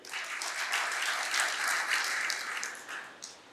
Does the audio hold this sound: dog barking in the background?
no